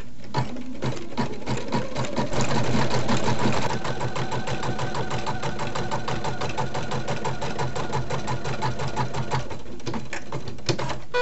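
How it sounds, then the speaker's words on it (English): Embroidery sewing machine satin stitching an appliqué heart, a steady loud rapid needle chatter with a fast even pulse running continuously throughout, close up and alone without talk. "now we're ready to do the satin stitching for it."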